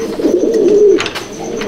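A domestic pigeon in a home loft coos steadily and close by, a low warbling call running through most of the moment with a few faint brighter sounds around it.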